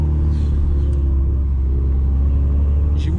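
A Volkswagen Golf 6 R with a stage 3 tune and soft exhaust pop mapping rumbles with a deep, loud, steady engine drone, with a couple of faint crackles from the exhaust.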